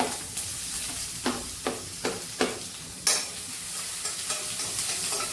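Crushed ginger and garlic sizzle in hot oil with mustard seeds in a pan, a steady frying hiss punctuated by several sharp pops and crackles, close and moderately quiet.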